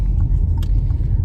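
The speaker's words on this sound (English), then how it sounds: "I must go down the road with all the cars on it." Cars passing on a nearby road, a continuous low rumble of traffic with a few faint brief clicks on top.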